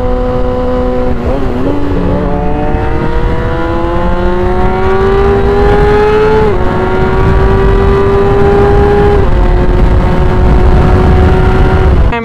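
A Yamaha R6 motorcycle engine revs loudly and close by on the Old Pacific Highway, its pitch climbing in several stepped rises over a steady, continuous roar.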